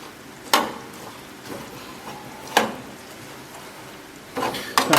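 A spoon scrapes and knocks against a pan of rendering pork fat from the oven, giving a few sharp clinks and scrapes spaced apart, close and fairly quiet, with soft shuffling between strikes.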